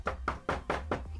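Five firm knocks on a door, evenly spaced about a quarter second apart, close and loud, with no talking.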